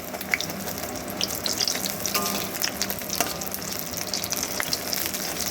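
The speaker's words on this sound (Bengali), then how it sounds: "উল্টে পাল্টে মুচমুচে করে ভেজে নেব এইরকম কড়া করে ভেজেই কিন্তু বড়াগুলোকে তুলে নেব" Pumpkin flower fritters deep-frying until crisp in a wok of oil, a steady dense sizzle and crackle with scattered pops and light clinks, close and continuous with no voices.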